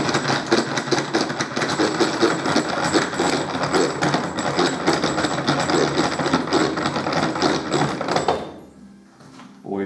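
A milling machine takes a 2 mm deep cut, producing a loud, continuous grinding whine with rapid chatter for about eight seconds before the cutting abruptly stops and the noise drops away.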